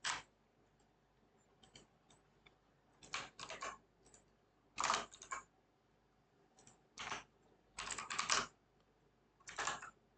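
Bursts of clacky keystrokes on a computer keyboard, typed in short irregular flurries with pauses between, close and fairly quiet.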